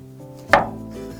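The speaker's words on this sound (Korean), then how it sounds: "얇게 편 썰어서 밀어 썰기" A single sharp knife chop on a cutting board while slicing vegetables thinly with a push cut, one crisp close knock against a quiet background.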